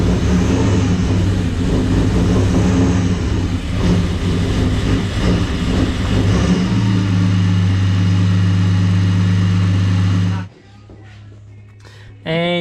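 A Ford XR6 Turbo with a new exhaust and boost control turns over and settles into a loud, steady low idle that drones for several seconds and then cuts off abruptly. People talk over the engine.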